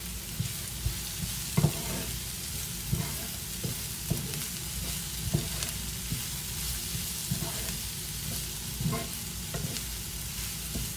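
Onions frying and being stirred in a pan for puttu kothu with potatoes, a steady sizzle broken by regular scraping stirs of the spoon every second or so, close and alone with no talking.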